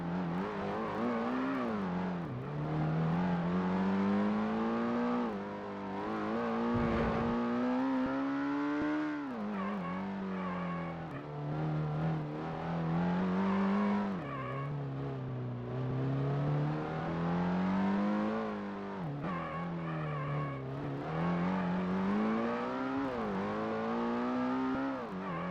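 Engines race continuously in Ford Racing on PS1, a loud, close buzzing drone that rises and falls with each gear change and acceleration, lasting throughout with no talk over it.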